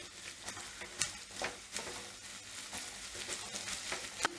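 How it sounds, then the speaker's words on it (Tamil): Mixed vegetables with red bell pepper stir-frying in a pan for chicken fried rice, a soft steady sizzle broken by repeated spatula scrapes and stirs, close and fairly quiet with no voices. "இது எல்லாமே சேர்த்து நல்லா வதக்கிக்கோங்க."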